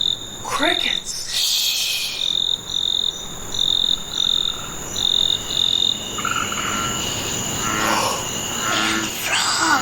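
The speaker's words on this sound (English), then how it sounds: "And frogs." Frogs croak in a night chorus with repeated rhythmic calls over a constant insect trill, steady and moderately close, with no talking.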